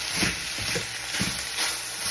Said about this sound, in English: The rice, you hear it sizzling. That's the fat frying onto it